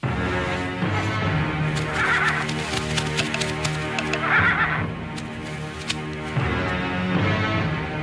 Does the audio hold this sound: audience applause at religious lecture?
no